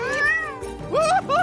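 Cartoon cat meowing, a few drawn-out rising and falling meows, loud and close, mixed with animated character voices.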